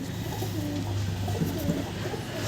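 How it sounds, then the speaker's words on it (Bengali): A female pigeon coos softly and repeatedly in low, rolling calls, close by, over a steady background hum. "এটা হচ্ছে মাদি পায়রা"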